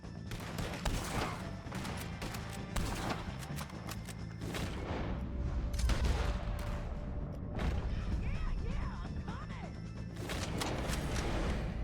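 Red Dead Redemption 2 gunfight with repeated sharp gunshots and booming blasts coming in bursts near and far, broken by brief lulls, with people talking over parts of it.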